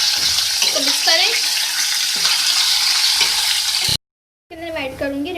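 Small chicken pieces are stirred in a hot frying pan, with a loud continuous sizzle and scraping stirs throughout, broken by a brief half-second gap before the sizzling and stirring resume.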